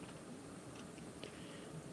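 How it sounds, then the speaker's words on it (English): A dog crunching dry food nearby, a soft, steady run of small bites and chews over a constant background hiss, with no talking. "my dog is over there drinking water or eating food. Sounds like crunching"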